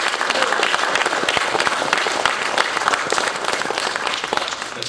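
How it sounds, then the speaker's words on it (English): A crowd claps loudly and continuously at an Air Force retirement ceremony, a thick wash of close applause holding steady for several seconds. "how about a round of applause for Staff Sergeant Birdie?"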